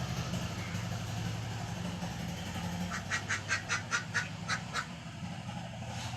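Ducks and ducklings quack in a quick run of about eight calls, faint and somewhat distant, over a low background rumble.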